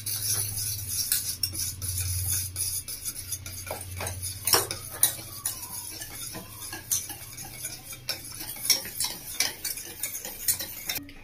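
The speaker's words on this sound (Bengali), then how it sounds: "এবার আমি ভালো করে মিশিয়ে নেবো এটার সাহায্যে।" A spoon stirring flour and cornflour together in a bowl, producing a steady run of soft scraping and light clinks against the dish, close and alone with no talk.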